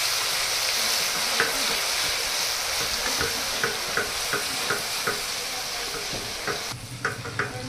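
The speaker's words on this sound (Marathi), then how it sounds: "आता मिरची कोथिंबीरचा भरडा चांगला परतून घेऊया" Coarse green chili and coriander paste sautéing in a pan, a steady close sizzle punctuated by regular spoon taps and scrapes against the metal, growing busier near the end.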